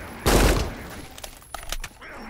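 Burst of gunfire aimed at a crawling enemy in a Roblox shooter game: a loud opening volley followed by several sharper, scattered shots, close and punchy with little talk.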